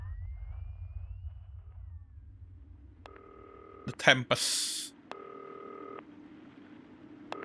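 A telephone in the video game Not for Broadcast rings twice in clean electronic bursts of trilling tones separated by a pause, with a brief voice and a short clatter between the rings.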